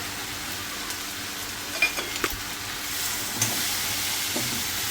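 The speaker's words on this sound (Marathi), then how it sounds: "हे पण ह्याच्यात मस्तपैकी भाजून घ्यायचे." Cashews, melon seeds and white sesame seeds roasting in a hot pan make a continuous close sizzle, broken by a few small clicks and pops as they are stirred.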